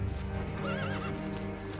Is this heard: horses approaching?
yes